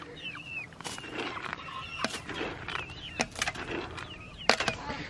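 Chickens in a pen give soft chirps and peeps among scattered scratching and pattering sounds, with sharper clicks near the end and no talk.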